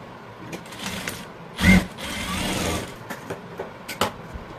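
A sewing machine stitches the dart of a blouse in a short, loud burst, with softer mechanical clicks and handling noises before and after.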